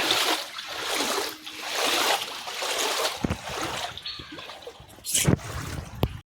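Feet wade through knee-deep monsoon floodwater pooled beside houses and shops, a steady sloshing churn broken by a few sharper splashes, close to the listener with no talking.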